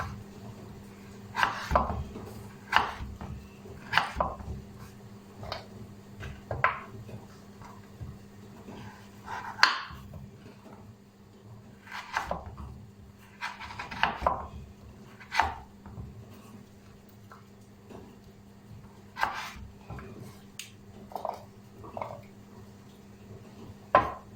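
A knife chops lemons and oranges on a board for homemade lemonade, giving sparse, uneven thuds and taps spread across a quiet room with a low steady hum beneath, close but soft, without speech.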